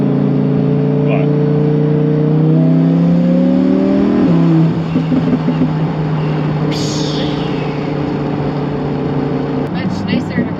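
A loud Lamborghini sports car with no mufflers roars steadily throughout a ride, its engine note rising and then dropping as it shifts, with people talking inside the cabin.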